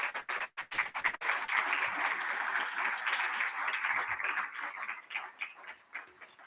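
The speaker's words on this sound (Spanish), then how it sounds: "Luis López Rosales, de la editorial Gedisa, para quien vamos a pedir un fuerte aplauso" Audience applause at a Spanish-language academic lecture, a dense steady clapping from a crowd that swells right away and holds, then thins toward the end with scattered claps.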